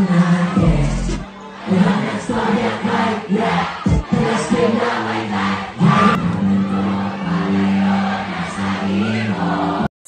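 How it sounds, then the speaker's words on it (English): Fans cheer wildly at a live singer's event, a loud continuous roar of screams and shouting from a large crowd that rises and falls, with a few brief dips before surging again. "you can hear the loud and wild cheers from the crowd"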